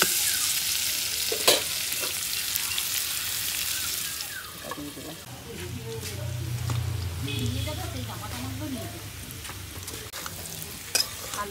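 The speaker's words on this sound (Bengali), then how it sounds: "আলুটা ভাজা হয়ে গেছে" Potato pieces fry in oil seasoned with salt and turmeric, a close, steady sizzle broken by scraping stirs and a few sharp clinks, with a muffled voice low in the background.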